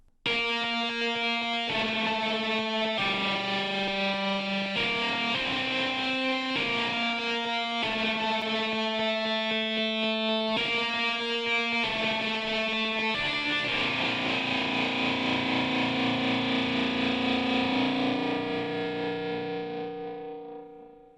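A heavily distorted electric guitar, run through grinder and grit distortion effects together, plays a chord progression with gritty, saturated tone, ending on a long sustained chord that slowly fades out.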